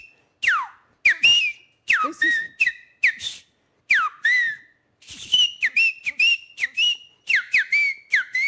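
A man whistles with his mouth in imitation of a thrush call, a rapid series of bright, sharply falling and rising chirps repeated over a dozen times in quick clusters, close and clear, with a brief spoken word at the start.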